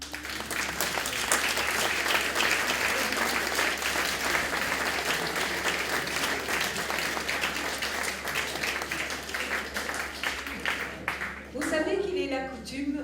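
A dance gala audience claps and applauds steadily for several seconds before the clapping thins out and a voice begins speaking near the end.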